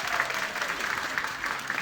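An audience at a city's State of the City event applauds, steady clapping from many hands spread across the room, moderately loud and continuous with no speech over it.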